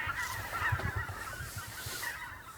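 A flock of geese flies overhead near Tartu, Estonia, honking in a continuous, overlapping chatter that stays fairly faint and distant against an outdoor background.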